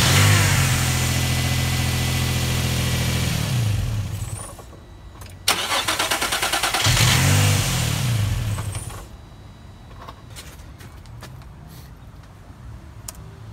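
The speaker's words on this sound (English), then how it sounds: "we're going to crank it over and we're going to see" A car engine with a bad camshaft sensor cranking over without catching, two long loud stretches of the starter's rhythmic churning separated by a pause, followed by quieter clicks and silence, no talking.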